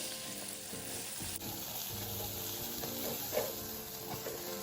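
Beaten eggs stir-fry in hot oil in a wok over medium heat, a soft, steady sizzle under quick scraping stirs with a small clatter, fairly quiet and without speech.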